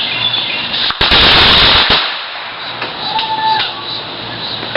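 A daytime backyard fireworks display crackles in loud, rapid bursts like machine-gun fire, close by, with a sharp barrage in the middle and continued popping and hissing afterward.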